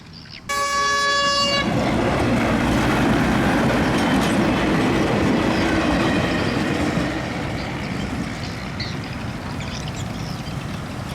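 A train horn sounds briefly, then a long, loud rumble and clatter of railway cars rolling steadily past close by at a manually operated railway crossing in Kampot, Cambodia.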